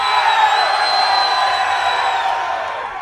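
A large concert crowd roars and cheers for Disturbed's Dave Draiman in a sustained, dense wall of hollering and whoops that fades slightly toward the end, with no talk over it.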